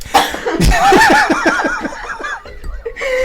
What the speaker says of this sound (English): every time I laugh, I cough, so there might be a lot of coughs